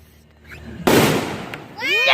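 Fireworks go off in a sudden loud burst followed by a spreading crackle that fades, with a voice exclaiming near the end.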